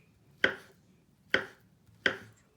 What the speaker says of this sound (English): You want to chop it up just like that.